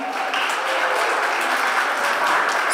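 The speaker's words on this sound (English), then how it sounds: "Can I have a round of applause for them?" Brief, moderately loud applause from a crowd at a Cape Verdean Association MLK Day celebration for a band, a continuous clatter of many hands with a faint voice mixed in.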